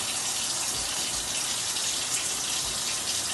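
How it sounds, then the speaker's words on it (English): Hands are washed under a running tap, with a loud, steady gush of water pouring continuously and close by, with no speech. "So as we're washing, we're also going to get under our fingernails, our wrists, to make sure that we're clean."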